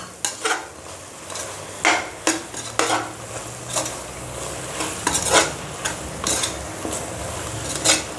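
Biryani masala being stirred into a pot for Kaalan (mushroom) biryani, with repeated scraping spoon strokes against the metal and a soft sizzle underneath, loud and close with no talking.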